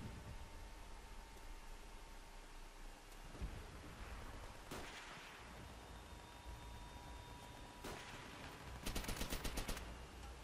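An MP40 submachine gun fires in Call of Duty in a few scattered shots, ending in a rapid burst of automatic fire, all fairly faint.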